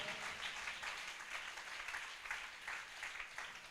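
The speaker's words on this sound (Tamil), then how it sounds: "என்ன விசுவாச கைத்தட்டு" A church congregation at Sunday worship claps together in a steady, rhythmic beat that sounds faint and distant.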